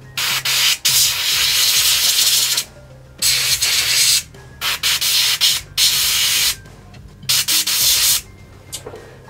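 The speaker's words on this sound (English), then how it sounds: "I'm just going to use my airbrush." Airbrush sprays paint onto a model in repeated hissy bursts of one to two seconds separated by short pauses, loud and close with a faint compressor hum underneath.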